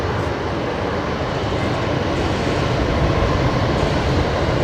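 An Airbus A320neo airliner arriving at Brisbane Airport gives a loud, steady, broadband engine roar that fills the whole stretch without a break, close and dominant, with no talk.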